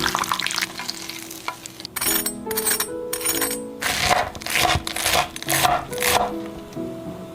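Shrimp paste frying slowly in oil over low heat, crackling in bursts with metallic clinks and scraping as it is turned in the pan.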